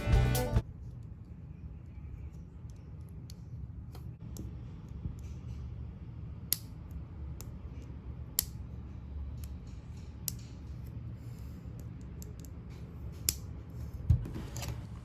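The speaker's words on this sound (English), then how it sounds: "Listen to the sounds when I move the crest on Kozu's helmet and compare it to a newer one." Small plastic clicks from moving the crest on a Lego Ninjago Kozu minifigure helmet, one with a loose clip, sharp sparse ticks spaced irregularly over a quiet background, close up.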